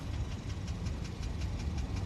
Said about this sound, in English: It has a rod knock.